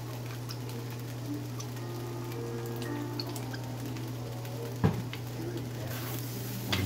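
Fried rice with sausage stirred slowly in a pan, a steady low sizzle running throughout with a faint scrape of the spoon near the end.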